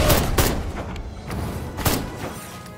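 Explosions and blasts in the video game Destroy All Humans, several sharp booming hits spaced a second or so apart, loud and close, over a low rumbling background.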